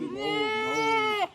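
A goat bleats once in a long, wavering, nasal cry, close and loud, at a market while goats are being loaded into a vehicle.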